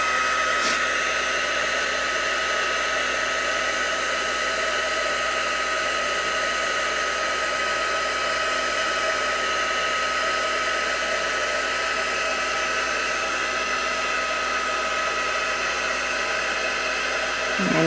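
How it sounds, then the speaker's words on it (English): A heat embossing tool blows hot air on a card, a steady loud whirring hiss like a hair dryer that runs unbroken and close throughout. "I'm going to take my heat tool here, it's going to get a little loud"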